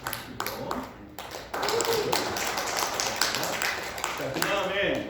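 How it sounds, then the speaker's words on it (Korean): An audience applauding at a Korean school's writing-contest award ceremony: after a few scattered taps, a burst of crowd clapping swells and holds steady, fairly close, with faint voices mixed in. "박수"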